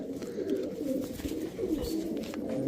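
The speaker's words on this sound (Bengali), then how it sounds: "ওয়ান টেলের কবুতর দেখেন" Grizzle racer pigeons coo nearby in low, rolling, overlapping murmurs that continue throughout.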